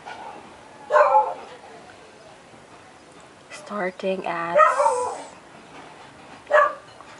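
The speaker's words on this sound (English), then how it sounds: "please be entertained by the dog barking in the background" A dog barks and yips in the background of a room, a few sharp bursts spread over several seconds, while a synthetic voice speaks briefly.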